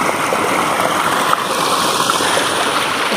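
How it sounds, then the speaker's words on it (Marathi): A forest stream flows steadily past a crab-strewn bank, a close, continuous rushing and gurgling of water that holds level throughout with no voices. "पाण्याचा आवाज"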